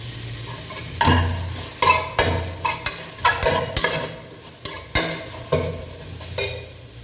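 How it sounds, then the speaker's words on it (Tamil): Sliced onions fry and get stirred in a pan for chicken biryani, a steady sizzle broken by repeated scraping strokes of a spoon, close and fairly loud, with no talking. "வெங்காயம் போட்டுக்கிறேன் ஸ்லைஸ் வெங்காயம்"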